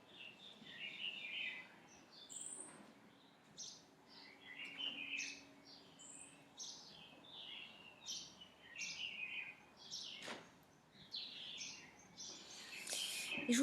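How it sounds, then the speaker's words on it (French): Small birds chirp and sing in quiet outdoor surroundings, with repeated bright calls and trills spread across the stretch, some fairly close, others fainter in the background. "Pendant que les oiseaux ont une grande conversation ici."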